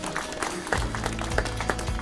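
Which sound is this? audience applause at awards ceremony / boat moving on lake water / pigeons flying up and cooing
audience applause at awards ceremony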